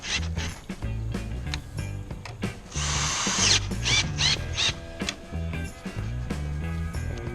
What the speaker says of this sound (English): we got our 20 millimeter bit here. Just gonna tighten that up nice and tight.